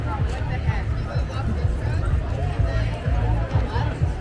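A crowd gathers at the Victoria Pride parade outdoors, a steady hubbub of many overlapping voices and chatter, fairly close and continuous, with footsteps and movement mixed in.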